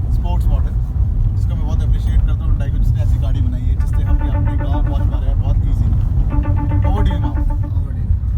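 A Hyundai i20 Sports car drives off-road on a mountain trip through dense forest toward a village. Its engine rumbles steadily and the cabin noise never lets up, while people talk over it.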